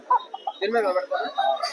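A large rooster, about four kilograms, at the Nandigama livestock market gives a short burst of close, loud clucking and crowing calls lasting under two seconds.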